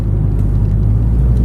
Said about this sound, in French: Tu entends les turbos résonner.